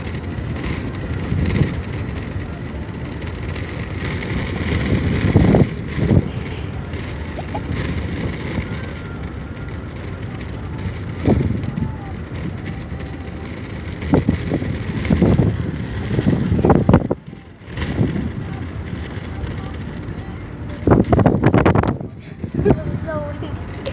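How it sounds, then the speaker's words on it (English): Strong, gusty wind buffets the microphone outdoors, making a loud, low, rumbling roar that surges in repeated bursts, with a person talking at times underneath. "That's so windy."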